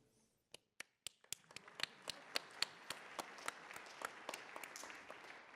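A conference audience starts applauding with a few scattered claps that quickly build into dense, sustained clapping, moderately distant.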